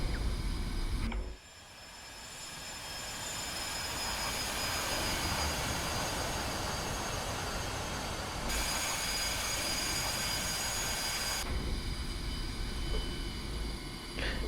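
An SU-25T jet in the DCS flight sim rolls out to the taxiway after landing, a steady broadband jet engine roar with whining turbine tones, loud and continuous from start to finish, with no talk.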